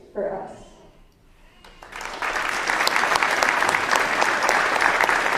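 Applause from a Veterans Day ceremony audience swells after a brief voice and holds as steady, dense clapping filling the hall, loud and continuous to the end.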